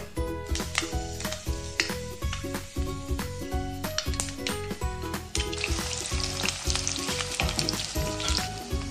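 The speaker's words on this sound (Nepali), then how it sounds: "एकछिन प्याज रातो हुन्छ मजाले भुट्ने है त यसलाई" Onions frying in hot oil in a wok for paneer masala give a steady, close sizzle, with occasional stirring scrapes and pan knocks throughout and no talking.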